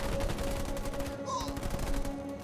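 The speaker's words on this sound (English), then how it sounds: "Marines under fire from enemy ground troops!" Rapid gunfire from enemy ground troops strikes Marines in Halo Wars 2, a dense, steady crackle of shots under a low battlefield hum, with a brief electronic chirp partway through.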